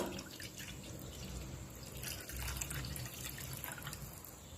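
Faint, quiet splashing and trickling of water being poured into a pot, with light drips against a soft background hiss.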